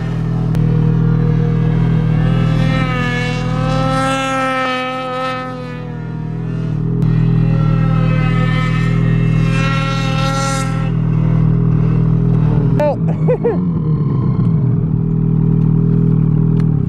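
A snowmobile engine revs in deep powder snow, loud and close, with a wavering, rising and falling whine over a steady low rumble, then ragged clattering bursts near the end; one short exclamation is heard.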